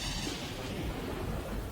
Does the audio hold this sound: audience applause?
no